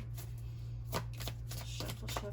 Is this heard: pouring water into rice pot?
no